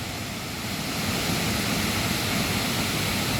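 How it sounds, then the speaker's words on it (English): A powerful waterfall near Chiang Mai, Thailand, roaring as a dense, steady wash of falling water that fills the whole scene without a break. "you see that? That's from the waterfall."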